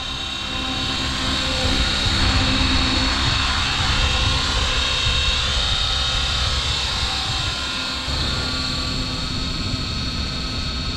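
A steady, loud whine of an Align T-Rex 550X RC helicopter flying on a 5,000 mAh battery, with a constant high rotor and motor drone throughout and no talk.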